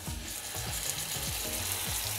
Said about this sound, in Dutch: Ik ga de haas nu in de pan doen.